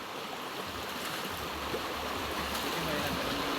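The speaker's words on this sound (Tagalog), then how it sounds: "Dito po kami naliligo sa sapa." A cold mountain stream flows steadily nearby where people bathe, a continuous soft rush of water with faint voices underneath.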